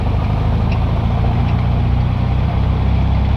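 The air-cooled engine of a 1969 VW Baja idles slightly fast, giving a steady, loud, even rumble close by with no change in speed and no talking.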